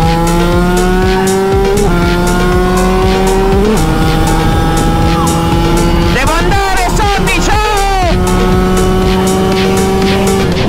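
A TM 125 motorcycle screams at full throttle close by, its loud, high engine tone climbing through gears, then briefly dropping and blipping on a downshift before pulling hard again.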